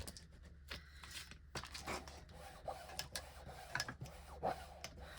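A ruler rubbed along Victorian velvet to lay ink lines for a paper craft tag: soft, close scratchy rubbing strokes and light handling clicks, very quiet, with no voice.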